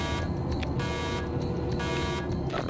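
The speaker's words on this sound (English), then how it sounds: "Boy, that alarm's gonna drive me nuts." An alarm in the video game Observation pulses on and off in a repeating tone over a dense, steady mechanical hum, loud and continuous with no talk.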